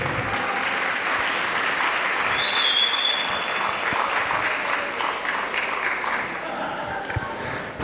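Loud, sustained applause from a large crowd at a big motivational show honoring Rafiq sir, a continuous wash of clapping with faint voices and a brief whistle mixed in.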